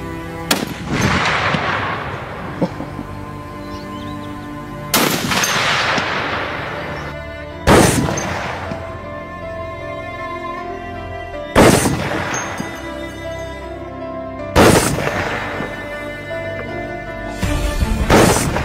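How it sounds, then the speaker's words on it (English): Real-life firearms modelled on Free Fire weapons such as the Vector, Groza, MP40, M1887 and MAG-7 fire single sharp, loud shots, about five blasts spaced a few seconds apart, each followed by a ringing echo. "Okay, firing."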